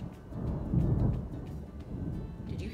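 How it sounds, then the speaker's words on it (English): A low, distant rumble of thunder rolls on a sunny day, swelling and fading over a few seconds with no talk. "Did you hear that thunder?"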